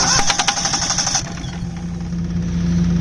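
A Perkins 103-10 diesel engine runs in a repowered Cushman Truckster after its idle screw is adjusted. It is a close, steady, rumbling idle with a knocking clatter that eases after the first second.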